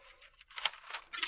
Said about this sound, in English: If I can flip the paper.